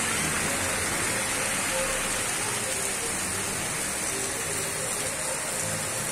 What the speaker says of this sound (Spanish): llueve fuertemente acá en Siloé